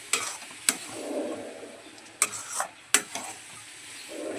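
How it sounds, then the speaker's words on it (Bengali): Semolina (suji) being stirred in a pan, a soft continuous scraping with a few sharp knocks of the utensil against the pan, close and fairly quiet, with no voices. "সুজিটা এইভাবে নাড়তে নাড়তে"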